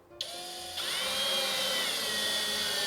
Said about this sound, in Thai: แล้วเขาก็จะมีชุดสกรูแบบนี้มาให้นะครับผมแล้วเราก็ยึดไปตามรูที่เราเจาะ